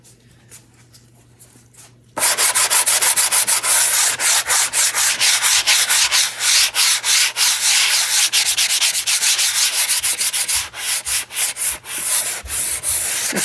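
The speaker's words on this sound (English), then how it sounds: "Now I am gonna do a little sanding on here." A sanding block works over a custom wooden name cutout: after two quiet seconds, fast, close back-and-forth strokes make a loud, rhythmic rasping that continues to the end.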